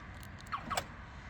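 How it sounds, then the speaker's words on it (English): A 1999 BMW Z3 M Roadster locking and unlocking, heard as a couple of quick, faint mechanical clicks and a brief chirp close by, with no talking. "let's get a little bit of nostalgia going as I lock and unlock the vehicle"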